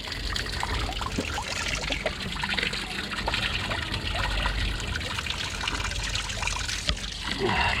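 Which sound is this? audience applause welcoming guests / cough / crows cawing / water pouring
water pouring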